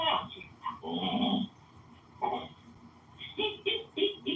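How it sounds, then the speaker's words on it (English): Excited dogs in a home kitchen make a burst of whimpers, growls and yelps in uneven clusters, mixed with people talking and laughing nearby. "My dogs are getting crazy."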